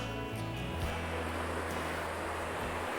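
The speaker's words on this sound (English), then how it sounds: "Man, I love the sound of that river, don't you?" A river rushes beside a campsite, a steady, full, close roar of flowing water with no voices over it.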